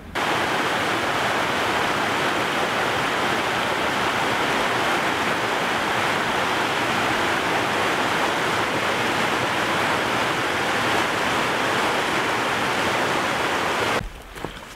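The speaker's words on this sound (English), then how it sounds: "The river's gonna drown out what we're hearing." A rushing river near Skookum Lake gives a loud, steady roar of water that fills the clip without a break. It cuts off abruptly at the very end, and there is no speech.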